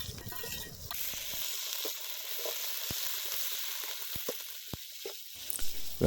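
Ginger garlic paste fries with onion and capsicum in a pan for a spicy pepper chicken dish, a steady close sizzle punctuated by sharp crackles and spoon-stirring clicks, with no one talking.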